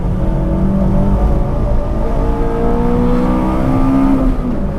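A Honda Civic Si engine on a race track, a steady loud drone whose pitch climbs gradually under hard acceleration, with faint whirring and other cars nearby, no talk.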